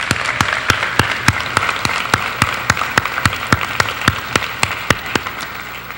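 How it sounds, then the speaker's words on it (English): An audience at a high school scholarship awards ceremony applauds a scholarship donor with a steady round of clapping, one loud regular clap standing out close by over the dense crowd applause. No one speaks. "a big round of applause"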